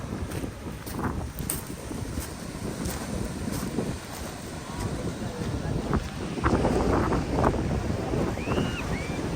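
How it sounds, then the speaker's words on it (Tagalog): Strong sea waves surge and wash against a rocky beach in a steady, roaring rush with gusty wind buffeting close by, swelling louder near the end; a voice is briefly heard over it. "Lakas ng alon! Lakas ng alon, mga kabeshi."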